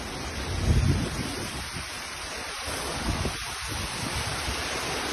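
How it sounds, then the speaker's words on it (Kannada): Strong wind and rain outdoors by a petrol station, a steady rushing roar with gusts buffeting the microphone, loud and continuous with no talking. "ಸಿಕ್ಕಾಪಟ್ಟೆ ಗಾಳಿ, ಮಳೆ."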